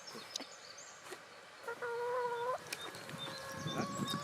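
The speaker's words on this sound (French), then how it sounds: "Qu'est-ce que viennent faire les poules?" Garden hens in an agroecological vegetable plot give soft clucks, with one drawn-out, rising-and-falling call in the middle, set against outdoor background ambience with no talking.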